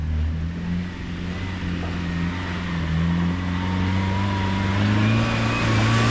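A Land Rover Defender engine revs while driving off-road through woodland, a loud, steady drone rising slowly in pitch over several seconds, heard close with no talk.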